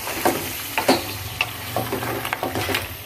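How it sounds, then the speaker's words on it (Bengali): Spices are stirred into beef in a pan, a continuous close sizzle punctuated by irregular scraping strokes of a utensil against the metal. "এগুলো দিয়ে আমি খুব ভালো করে মাংসের সাথে মিশিয়ে নেব"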